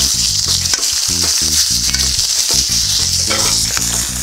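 Moroccan chicken pieces searing in an oiled pan over a campfire, a loud, dense, continuous sizzle heard up close with occasional utensil taps and no talking.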